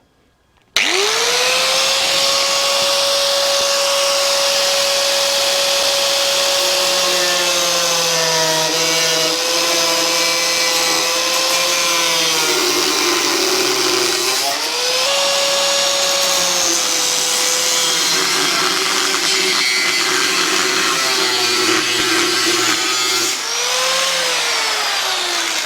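A power tool cuts through the plastic rear mudguard of a Suzuki VL250 motorcycle with a loud, close, continuous whine whose pitch dips and rises as the blade bites, running without a break and with no speech.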